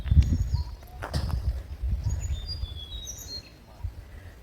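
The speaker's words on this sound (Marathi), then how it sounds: "पक्ष्यांचे आवाज तुम्हाला ऐकू येत असतील कदाचित" Short bird chirps and whistles come and go faintly at a distance over rustling outdoor background and a few low thumps, atop Yashwantgad fort at Redi in coastal Konkan.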